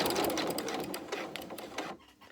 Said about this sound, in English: Then you're going to sew down until you are kind of level with that point.